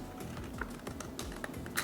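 Scissors cutting paper bird wings for a paper toy: quick crisp snips and paper rustles repeat close by in a quiet room, with a few sharper clicks standing out.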